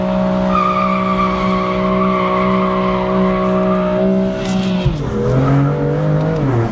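A BMW M2 Competition (F87) with anti-lag and track modifications slides, its tires squealing in long sustained tones while the engine holds a steady drone, close and loud, the pitch dropping and wavering near the end.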